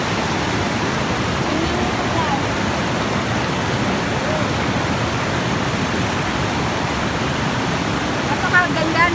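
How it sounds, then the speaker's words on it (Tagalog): Ocean waves wash against the shore at Malingin Rocks in Liloan, Cebu, a loud, unbroken roar of surf that fills the whole stretch without pause. "Medyo pumaas na po yung alon."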